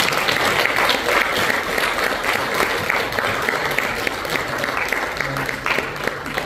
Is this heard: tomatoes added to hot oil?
no